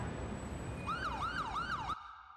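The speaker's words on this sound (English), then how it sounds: "I was going to get rid of the siren." An ambulance siren in a paramedic simulator video game wails in a rapid rising-and-falling pattern for about a second, then cuts off abruptly, leaving a faint steady hum.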